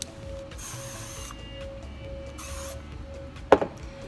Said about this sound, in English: It's a blow dry spray